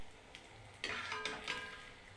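Malpua pitha fry in hot oil with a steady soft sizzle, and a few louder crackling bursts stand out, close but quiet, with no voices.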